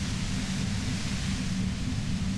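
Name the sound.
white noise from radio in video game Disco Elysium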